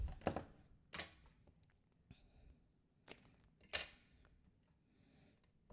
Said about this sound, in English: My scissors were getting stuck.